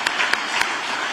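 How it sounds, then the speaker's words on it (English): Audience applause during sponsor thanks at a public event: a short burst of steady clapping at moderate loudness, with a few sharper claps standing out. "you can give applause"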